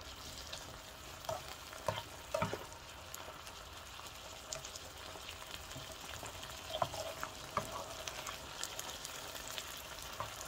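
Eggplant and ground chicken stir-fry in a pan with fish sauce, soy sauce and oyster sauce, a soft continuous sizzle broken by scattered clicks and scrapes of stirring, with no talking.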